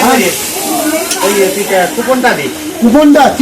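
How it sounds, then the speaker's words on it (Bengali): A loud sizzle of spice paste frying in a pan for chicken curry, heard under a person talking close by. "এখন চিকেন হবে তাই মশলা কষানো হচ্ছে"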